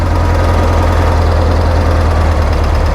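A 1975 VW Beetle's fuel-injected air-cooled engine runs at a high idle with the cold start valve plugged, a loud, close, continuous rumbling drone with a fast steady pulse.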